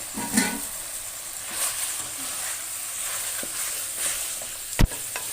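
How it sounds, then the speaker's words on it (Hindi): Half a kilo of green pumpkin goes into a pan of fried mutton, sizzling steadily, with a few stirring scrapes and one sharp knock near the end, no talking. "अब मैं इसमें ये आधा किलो मैंने हरा कद्दू लिया था, ये मैं डाल दूँगा।"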